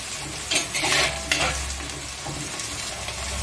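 Onions sauté in hot oil in a thick-bottomed pan for a festival mutton curry, a steady close sizzle with a few stirring scrapes near the start.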